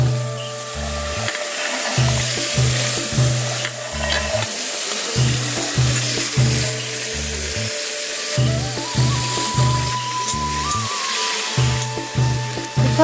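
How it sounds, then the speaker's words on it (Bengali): Soaked chickpeas fry in hot oil with green chilli and bay leaf, a steady loud sizzle running throughout. Regular scraping strokes from a stirring utensil cut across it in a repeating rhythm. "ছোলাগুলো আমি ভেজে নিয়েছি"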